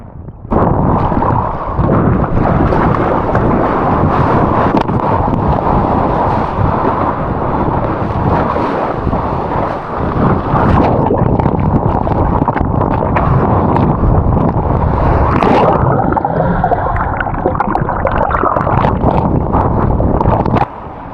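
Strong wind buffets the microphone while surfing in Sweden, a loud, continuous roaring rush with gusty swells, joined by faint watery splashes as a surfer paddles against the current.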